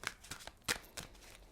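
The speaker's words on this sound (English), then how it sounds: "One more shuffle." A deck of cards is riffled and shuffled in a few quick, crisp bursts, close and fairly quiet.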